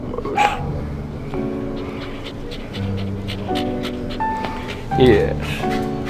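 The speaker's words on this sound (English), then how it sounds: "What a pretty doggy you are." A dog named Moose whimpers and gives short barks and yips close by, the sounds mixed with a person's affectionate talk throughout.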